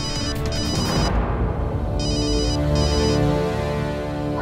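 A phone rings in a domestic scene, an electronic ringtone in repeated bursts sounding over a continuous music score, with no voices.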